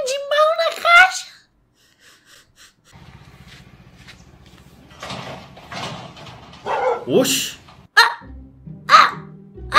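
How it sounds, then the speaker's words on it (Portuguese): A dog gives a few short barks and whimpers in scattered bursts, mixed in with people talking and laughing at close range. "Ai, começa a latir pro outro ainda."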